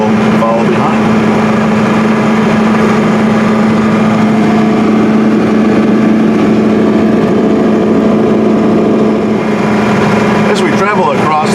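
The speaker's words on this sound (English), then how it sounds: "We're just kind of idling through here now." A John Deere 4840 tractor idles steadily while pulling a 16-row 845 cultivator through a field, a constant loud low engine drone with a strong steady hum throughout and no speech.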